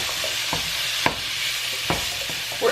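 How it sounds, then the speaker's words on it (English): Minced garlic is stirred in a hot skillet over medium heat, with a steady sizzle and a few light scraping strokes of the utensil, close and clear with no talking. "We're going to add a nice heaping teaspoon of minced garlic to the pan. Like so. Give that a quick stir."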